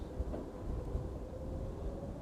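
An Aerologic Boeing 777 cargo jet taking off at East Midlands Airport in the evening, a continuous low rumbling roar that builds steadily and stays loud, with a faint steady hum above it.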